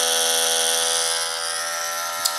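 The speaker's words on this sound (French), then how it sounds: "Voilà, la brosse est en marche." A Zeitgard electric facial cleansing brush runs continuously, giving a steady, close, high-pitched vibrating buzz with one small click near the end.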